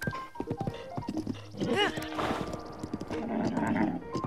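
Link's horse in Zelda Breath of the Wild clip-clopping on hooves, a steady close rhythm of hoofbeats, with a brief whinny partway through.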